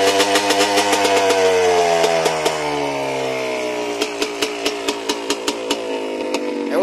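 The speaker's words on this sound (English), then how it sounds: "You're letting the engine cap catch up with the flow of gas that's coming out of the carburetor, so it eventually flushes out all the old oil." A flooded two-stroke engine runs to burn off old oil, its note rising and falling through uneven revs, then settling into a loud, choppy idle with sharp, regular firing pulses.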